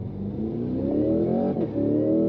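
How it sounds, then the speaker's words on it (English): A 2026 Cadillac CT5-V Blackwing with automatic transmission launches hard from a standstill, its engine roaring loud and close and climbing steadily in pitch through the gears, with a brief dip at a shift. "foot on the brake, pin the throttle. It's gonna hold for launch, letting go."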